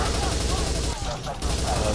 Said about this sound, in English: Nothing can be more satisfying than crushing enemies with a huge spider tank.